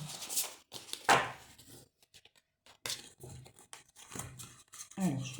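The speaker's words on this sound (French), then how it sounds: "je remets juste mes cartes en ordre" Tarot cards are handled and shuffled in a few short papery bursts, with quiet gaps between the riffles and soft rustles, close and intimate.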